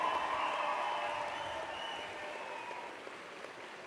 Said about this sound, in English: I invite the members of the graduating class to reciprocate by applauding the amazing family, friends, faculty, and staff